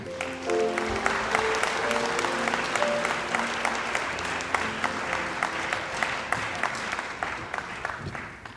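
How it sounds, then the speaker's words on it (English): Audience applause fills an award ceremony at a university honors night, a dense, steady clapping crowd that carries loudly and evenly throughout before easing slightly at the end. "Let's have another round of applause for both Paige and Gabe"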